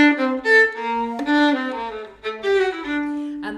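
Solo violin plays a Bach phrase with heavily exaggerated slurs, notes gliding and swelling into one another in a flexible, close, clear line with no talking.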